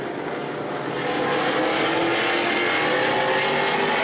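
A Pro Late Model race car laps New Smyrna Speedway during qualifying, a steady, loud engine roar that swells slightly after the first second and holds at full volume.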